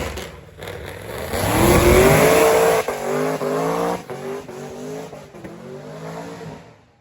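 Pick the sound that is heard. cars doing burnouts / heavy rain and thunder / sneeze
cars doing burnouts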